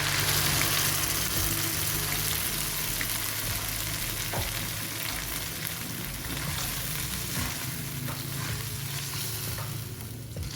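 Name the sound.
spice paste frying in a pan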